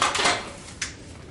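Metal nuts, bolts and knobs for a Weber Genesis EP-330 grill clink and rattle in their packaging, two brief close jangles.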